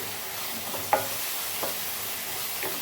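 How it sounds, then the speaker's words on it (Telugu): A curry pan of sautéing aromatics with turmeric, a steady soft sizzle close by, broken by a few light scraping knocks of a spoon as it is stirred, with no talking. "పసుపు వేసి ఇలా మిక్స్ చేయాలండి"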